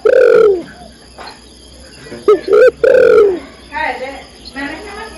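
Female spotted dove cooing to call a male: a few loud, close, hollow coos in short bursts, with faint insect chirping behind and quieter rustling toward the end.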